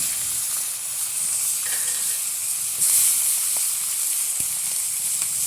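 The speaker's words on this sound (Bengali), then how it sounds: "এবারে শুধু মাথা ভাজবো।" Fish heads frying in a pan of hot oil on a village kitchen stove, a steady close sizzling hiss that runs throughout with brief louder bursts of spatter.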